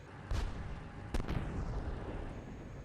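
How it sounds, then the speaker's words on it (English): A few distant, booming gunshots in the tank simulation game Steel Beasts Pro PE ring out at intervals, each followed by a fading rumble over a low background din. "I'm hearing gunfire off to my right."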